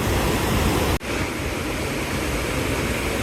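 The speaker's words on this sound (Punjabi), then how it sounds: "ਯਾਰ ਪਾਣੀ ਦਾ ਭਾ ਪੂਰਾ ਤੇਜ਼ ਆ ਇਸ ਵਾਰ" Fast, cold mountain stream rushing down from the peaks along a trekking route to Govindghat, a loud, steady broadband roar close by with a brief dropout near the start.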